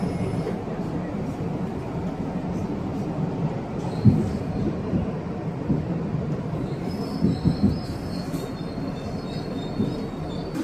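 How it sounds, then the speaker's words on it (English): Commuter train near Grand Central, heard from inside a car: a loud, steady low rumble of wheels on track with faint high squeals of steel wheels late on and a few clanks. "I'm in the train."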